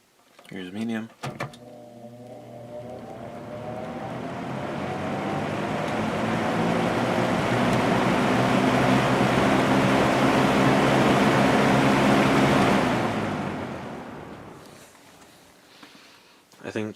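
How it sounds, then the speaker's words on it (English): A vintage Sears box fan started on medium speed, its motor spinning up with a rising tonal whine over broad airy rush, building steadily and holding loud before cutting off near the end, with a clunk of the switch at start and finish. "I think you can hear the motor whine the most on medium on these box fans."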